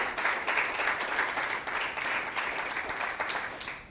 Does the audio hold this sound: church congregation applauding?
yes